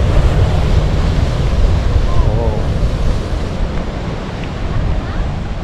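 Surf washing onto a rocky shore in American Samoa, a steady roar of waves with heavy wind buffeting the microphone throughout, loud and continuous.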